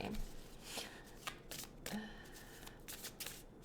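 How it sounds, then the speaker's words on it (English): A deck of smooth, buttery-feeling tarot cards is shuffled by hand in a run of quick, crisp riffling bursts and soft slaps, heard close and fairly quiet, with no speech. "If you shuffle cards, then you'll know what I mean."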